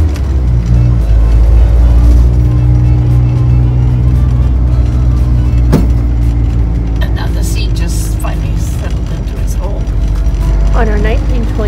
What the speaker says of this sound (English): We're going for a drive. Grandma's driving her Ranger.